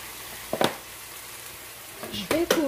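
Tomatoes with a little salt frying in a pan for ratatouille, a steady soft sizzle broken by a few utensil clicks, with a voice briefly heard near the end.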